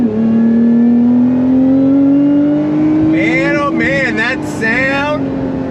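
A supercharged V6 in a Lotus Emira with automatic transmission pulls hard under throttle, its loud droning engine note rising steadily from inside the cabin while a man briefly exclaims over it.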